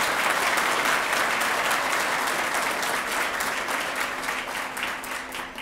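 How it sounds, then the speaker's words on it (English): Audience applause for employees of the year at a reception, dense sustained clapping from a crowd filling the room, loud at first and gradually tapering off. "let's give all of our employees of the year a round of applause."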